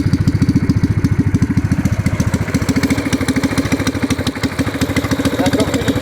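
A Predator 212 engine pit bike with a Harley slip-on muffler runs nearby, a loud, fast, even thumping exhaust pulse that holds steady throughout.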